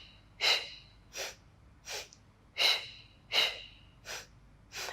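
Heavy breathing during a Pilates mat exercise: seven sharp, breathy puffs close to the microphone, spaced at fairly even intervals of under a second.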